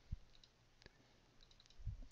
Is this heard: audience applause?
no